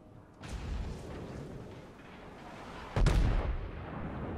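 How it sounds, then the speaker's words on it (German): Battleship guns (an Iowa) fire in the naval combat game World of Warships: two heavy booming salvos, the second louder and closer, each trailing off into a rolling rumble. "Schüsse sind raus."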